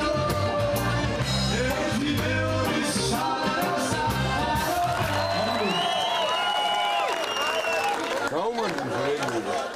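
A concert crowd roars with a sustained ovation and cheering after a Khevsur-style reggae song, broad and loud throughout, with whoops rising above the applause and a voice talking over it.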